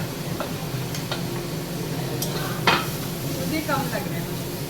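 A steady sizzle comes from mushrooms going into a hot pan, with a few light clicks and scrapes of stirring over the constant frying hiss.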